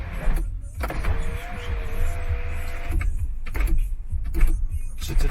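A BMW X1 power window motor whirs as the glass moves, a steady electric hum lasting about two seconds inside the car, framed by clicks and light handling noises before and after.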